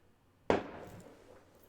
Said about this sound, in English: That was just firecrackers outside